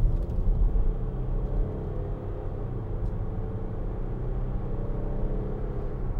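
Low, steady engine rumble and road noise from inside a 2013 Range Rover Sport 3.0 SD V6 diesel as it accelerates, smooth and continuous with no voices.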